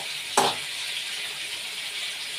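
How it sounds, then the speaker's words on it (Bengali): Cauliflower pieces fry in hot oil with a steady, close hiss of sizzling, broken once early by a brief clank of a utensil against the pan. "ফুলকপিটা ভেজে তুলে রাখছি"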